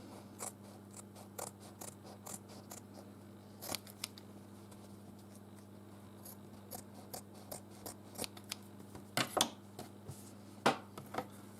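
Scissors cutting paper for a wet palette used in miniature painting, a series of faint, crisp snips and slicing strokes at close range, irregular and growing denser toward the end, with no talk.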